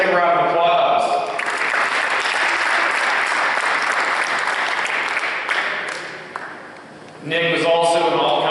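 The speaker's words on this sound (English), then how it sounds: "give a second round of applause" Steady applause from a crowd at a 2020 football awards ceremony honors an award recipient, with talk over a microphone just before and after the clapping.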